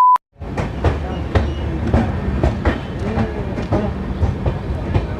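Hirakhand Express departing Tikiri railway station on a monsoon run, heard from on board as steady clickety-clack of wheels over rail joints with a low rumble, loud and close, after a short tone at the start.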